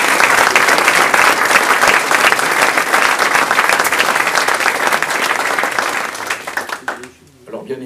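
Audience at a municipal New Year's greetings event applauding the municipal reserve, loud dense clapping that fills the room then fades out near the end.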